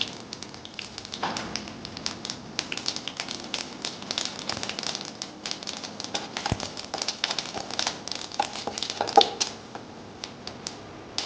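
Mustard seeds and urad dal splutter in hot coconut oil, producing dense rapid pops and crackles that keep going irregularly at close range.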